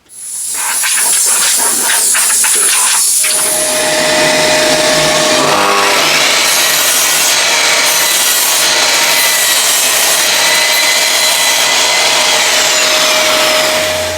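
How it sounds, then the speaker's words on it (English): A Bosch GCM 80SJ sliding mitre saw cuts wood with a dust extractor running: first a loud high whine as the blade spins up, then a rough grinding cut over a steady extractor roar that holds to the end. "do one more cut with the dust extractor on"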